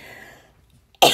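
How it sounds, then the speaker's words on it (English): A woman gives a single sharp cough right at the end, loud and close, after a fading stretch of sound and near silence. "My breath after that coughing."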